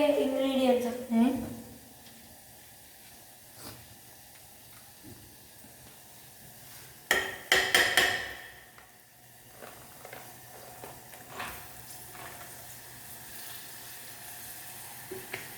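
Ingredients added to a frying pan and mixed in, giving a steady hiss and sizzle with scraping bursts from stirring partway through, while someone talks over the cooking.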